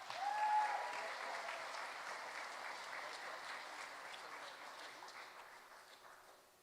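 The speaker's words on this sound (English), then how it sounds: "one more big round of applause for Smyrna Elementary School" Steady audience applause at a school education awards ceremony, a continuous wash of clapping from a crowd heard at moderate distance for the whole stretch, slowly thinning toward the end.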